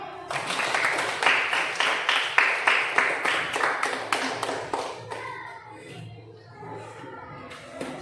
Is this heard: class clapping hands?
yes